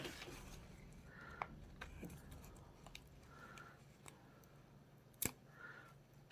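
Scissors snip through artificial flower leaves in a quiet room, with a few faint, sharp cuts spaced apart and soft handling noises between them.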